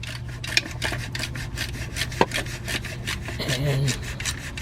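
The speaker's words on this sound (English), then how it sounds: "Here's my 10mm 1/4" drive ratchet with a deep 10mm." A 10mm 1/4-inch drive ratchet with a deep 10mm socket turning a bolt during a starter replacement on a Jeep Grand Cherokee 3.6, a steady close rasping clicking ratchet sound with a couple of sharper metallic knocks.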